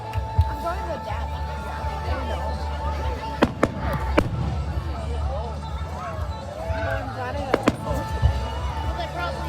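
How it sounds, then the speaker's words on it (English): Fireworks bursting at a Red, White and Boom celebration, a few sharp booms standing out over a constant dense crowd murmur, with voices chattering throughout. "They have all the fireworks."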